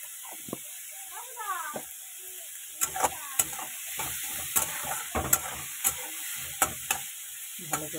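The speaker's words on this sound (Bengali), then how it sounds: "ভালো করে এটা ভাজা হোক" Food with salt and turmeric fries in a pan with a steady soft sizzle, while a utensil stirs it in repeated sharp scraping clicks; a brief voice-like sound comes early.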